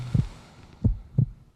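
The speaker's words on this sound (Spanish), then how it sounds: "los latidos del corazón de mi padre" A father's heartbeat thumps three times, close and deep, in a slightly uneven rhythm with low throbbing pulses and quiet gaps between them, and no voices.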